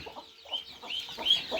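Backyard chickens, unvaccinated hens, cluck softly in a short burst of quick, faint, irregular notes with no talking over them.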